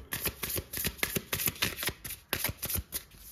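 Tarot cards are shuffled by hand close up, producing a quick, uneven run of crisp riffling and flicking bursts over a few seconds, with no voice.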